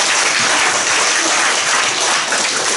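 A church congregation claps together during a Sunday morning worship service, a steady, dense roar of applause filling the room at even loudness from start to finish.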